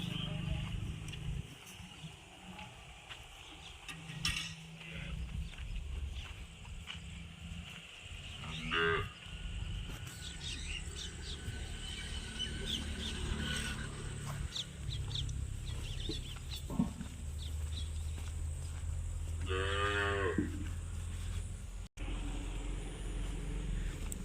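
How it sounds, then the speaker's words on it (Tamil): Native Indian cows, including Tharparkar and Gir breeds, low in the distance on a cattle farm, with one clear drawn-out moo near the end, amid faint clucking chickens and general barn noise. "இதெல்லாம் பார்த்தீங்கன்னா நாட்டு மாடுங்க"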